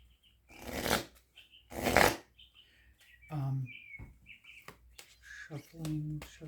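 Two bursts of cards being riffled and shuffled, close by, followed by short chirpy sounds and brief vocal noises.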